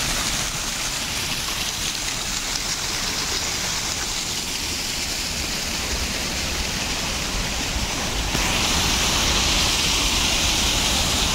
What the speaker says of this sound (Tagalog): May mini falls din rito.